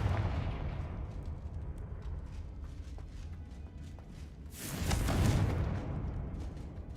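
A Confringo fire spell explosion in Hogwarts Legacy, a single roaring broadband blast midway through, rising out of low rumbling game ambience and fading over a couple of seconds.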